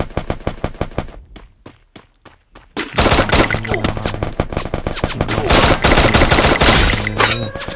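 An XM8 rifle with a Songkran skin fires in a shooting video game: scattered single shots at first, then sustained loud rapid automatic bursts with dense overlapping gunfire close up.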